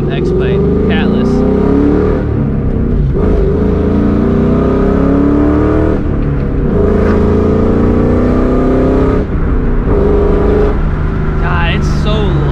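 A 2004 Mustang GT with a Borla ATAK exhaust, BBK short-tube headers and a catless JBA X-pipe drives and revs with a loud, deep, continuous rumble, rising and falling across several pulls while people talk over it.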